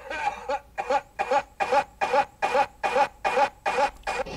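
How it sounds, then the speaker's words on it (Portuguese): Rhythmic, repeated coughing from the opening of Black Sabbath's Sweet Leaf, about nine or ten harsh bursts at a steady pace, fairly close and clear with no talking over them. "Eu botei só a tosse."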